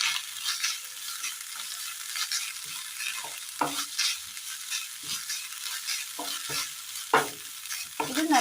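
Grated coconut and four chopped shallots roasting in a little oil, a light continuous sizzle with scattered stirring scrapes and taps growing busier toward the end, close-up and fairly quiet, no talking.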